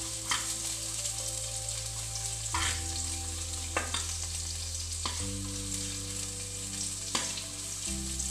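Curry leaves fry with onion in hot oil, a busy steady sizzle punctuated by several sharp scrapes and taps of a spoon against the pan, close and without speech.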